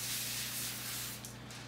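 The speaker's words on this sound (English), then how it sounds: "we're gonna spray it with cooking spray." Cooking spray hisses steadily from an aerosol can onto a sheet of aluminum foil in a home kitchen, one continuous close burst that trails off at the end.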